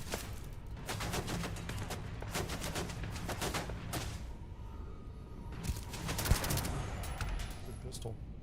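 Rapid gunfire in a Starfield firefight, sharp shots in quick clusters, with a heavier burst of fire and a loud crack toward the end, under a talking player's voice.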